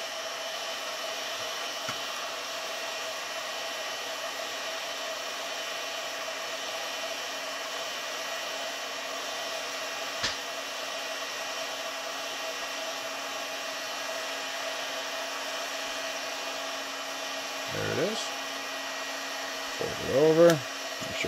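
A heat gun blows steadily with a constant whirring hiss while warming a plastic sheet for vacuum forming AR-15 magazine holders, with a few faint handling knocks near the end.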